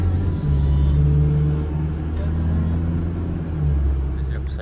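A car drives on a snowy winter night, heard from inside the cabin as a steady low road rumble and engine hum with the heater running, while someone talks over it.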